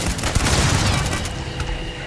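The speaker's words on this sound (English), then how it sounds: "Can't even tell what's shooting me." Gunfire aimed at the player in the video game Starfield: a loud, dense burst of rapid shots and booms that fades slightly toward the end.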